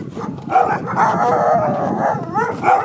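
Sled dogs at a dog sledding farm, Muktuk Adventures near Whitehorse in the Yukon, barking and howling loudly and close in overlapping bursts, with yips mixed in throughout.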